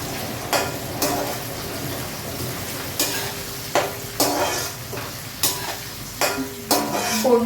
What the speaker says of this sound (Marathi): गरम होतं तर हे व्यवस्थित तळून घ्यायचं आपण